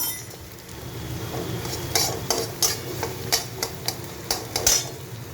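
Two cracked eggs and chopped vegetables cooking in a pan for chire upma, with gentle background frying and a series of sharp metallic spatula clinks against the pan in an irregular rhythm.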